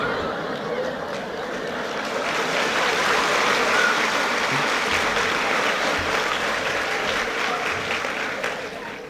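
An audience at a 1965 university event applauds with a dense, steady clapping that swells and then fades over several seconds, with a little crowd murmur mixed in.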